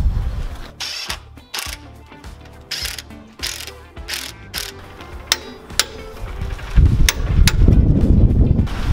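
A torque wrench ratchets in quick clicking bursts while 19 mm nuts are tightened on a Toyota Tacoma front differential during a gear install, followed by louder metallic clatter and rumble near the end.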